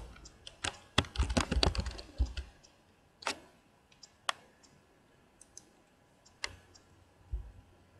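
Keys tapped on a computer keyboard while entering text into a text field, a quick burst of close clicky keystrokes followed by sparse single taps spread out, with no voices.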